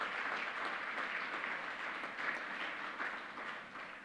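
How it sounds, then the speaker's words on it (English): An audience at a celebration event gives honorees sustained applause, a dense even wash of many hands clapping that fades slightly at the end. "Let's give a heartfelt round of applause to tonight's honorees."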